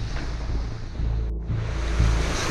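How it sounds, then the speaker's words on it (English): Rough, choppy seas crash around a sailing boat crossing Bass Strait off Tasmania in winter, a continuous loud rush of waves and wind with heavy low swells rolling in every second or so. "It's quite an ugly sea running"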